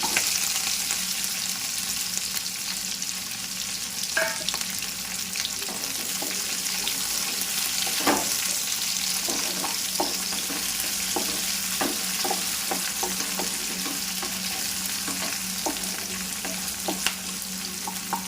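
Green chilies and onion sizzle steadily in a pan while a spoon scrapes and stirs, sharp clinks and scrapes recurring irregularly over a constant frying hiss; no one speaks.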